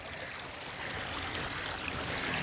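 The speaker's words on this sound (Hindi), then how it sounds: "ये देखें दोस्तों ये नदी का पानी चल रहा है।" River water flowing steadily at a rural spot near Karachi, a continuous broadband rush with no breaks and a slight rise in level partway through, close and fairly loud with no voices.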